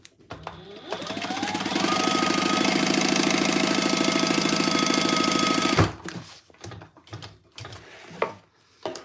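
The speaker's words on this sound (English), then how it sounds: "Let me stitch this closed again" Sewing machine stitching a crossbody bag closed, a loud close rattling whir that ramps up and runs steadily for about five seconds before stopping, followed by light handling clatter.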